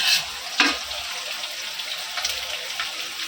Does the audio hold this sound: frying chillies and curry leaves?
yes